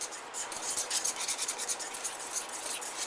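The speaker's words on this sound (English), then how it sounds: "and just keep stirring it" A spatula stirring thickening chocolate pudding in a pot over low heat, a soft, continuous scraping rub with a gentle uneven rhythm, close and quiet, with no talk.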